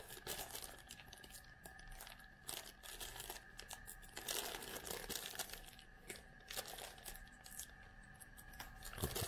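Scissors cut open a sealed plastic ziplock bag holding a reusable face mask, giving faint, close crinkling and snipping with irregular bursts of rustle over several seconds and no talk.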